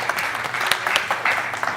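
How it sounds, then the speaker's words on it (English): A short stretch of audience applause for guests at a panel session, a steady patter of many hands clapping with a faint voice mixed in. "great applause to our guest."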